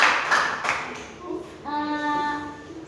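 Students in a classroom give a short burst of applause after a group presentation, the claps fading within a second before a steady tonal sound takes over.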